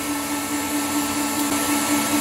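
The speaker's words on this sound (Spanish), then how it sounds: "Ahora hay que dejarlo batir" An electric mixer beats Italian meringue with a steady, loud whirring hum that holds a constant pitch throughout, with no talking.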